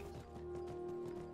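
Horse hooves in the modded game Skyrim Special Edition, a rapid, steady clip-clop of galloping over a constant game drone, fairly quiet.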